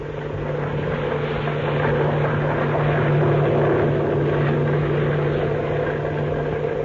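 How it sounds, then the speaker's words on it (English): Amphibian airplane engine droning steadily in flight as a radio drama sound effect, a continuous loud propeller hum with a strong low tone, alone with no voices. "Fire has broken out on Jack Armstrong's amphibian as it's in flight over the jungle."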